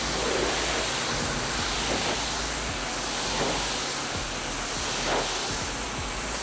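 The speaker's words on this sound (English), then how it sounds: "When rinsing a roof with a pressure washer" A pressure washer rinses a roof, giving a steady, loud, broadband spray hiss that runs unbroken from start to finish with no voices.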